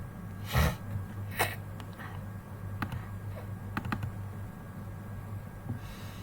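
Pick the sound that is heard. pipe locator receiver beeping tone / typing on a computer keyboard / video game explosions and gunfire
typing on a computer keyboard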